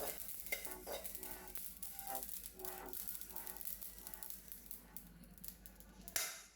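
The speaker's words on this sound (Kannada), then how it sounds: "ಈಗ ಸಾಸಿವೆ ಹುರ್ಕೋತೀನಿ ರೀ." Mustard seeds dry roast in a pan for homemade garam masala, a soft continuous crackle and scrape of stirring, faint and close, with no talk.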